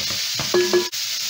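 Kale dropped into a hot pan with garlic, a steady bright sizzle of frying with a brief stirring clatter in the middle, close and alone.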